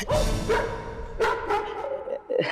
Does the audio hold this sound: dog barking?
yes